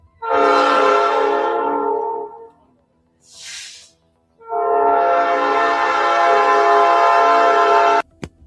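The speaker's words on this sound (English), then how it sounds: "We should have stopped the train." A train horn blares in two long, loud sustained blasts separated by a brief pause and a high hiss, with rail rumble beneath, ending in an abrupt knock.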